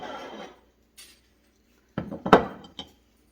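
Baking pans for everything bagel chaffles slide into a home oven with a cluster of close metallic clanks and rattles, followed by a final light clink, after a short quiet pause.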